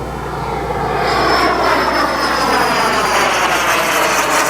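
An F-100 jet roars loudly and steadily close by, its broad engine noise carrying a high whine that shifts in pitch as it flies past.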